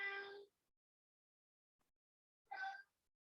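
A cat meows twice, close by in a quiet room: one drawn-out meow at the start and a second, shorter one about two seconds later, with silence between.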